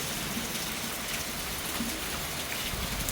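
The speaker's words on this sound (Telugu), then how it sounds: "ఈ టైంలో జోరు వర్షం అనమాట" Rain pours down steadily, a dense, even hiss with no other sounds, fairly quiet overall.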